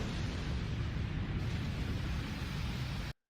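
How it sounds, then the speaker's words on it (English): An anime explosion sound effect: a sustained, roaring burst of broadband rumble and hiss that holds at full force for about three seconds, then cuts off abruptly. "And then the explosion too."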